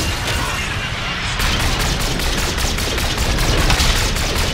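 Rapid automatic gunfire in Call of Duty Infinite Warfare, a dense string of repeated shots. It starts after a brief quieter lead-in and continues steadily and loudly over a busy battle backdrop.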